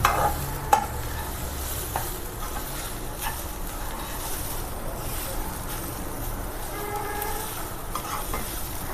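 Grated fresh coconut is stirred and roasted in a pan, giving a soft, steady sizzle with occasional spatula scrapes and a sharper tap early on, fairly quiet and even throughout, without voices.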